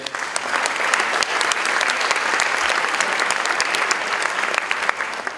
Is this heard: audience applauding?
yes